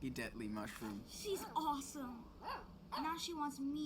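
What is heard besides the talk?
No everyday noises stand out.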